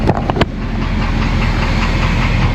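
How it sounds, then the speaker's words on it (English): Knocking car engine on a vehicle broken down while towing an Airstream trailer: a loud, steady running engine rumble close by, after a few sharp clunks at the start, with no talking. "We've got a knocking engine noise"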